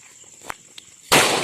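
A Diwali firecracker bursts with one sharp, loud blast that sustains as a bright crackling roar. It follows a couple of small pops over quiet background.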